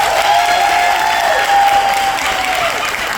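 Steady, dense applause from a comedy club audience fills the room at Stardome, loud and continuous throughout with faint crowd murmur mixed in.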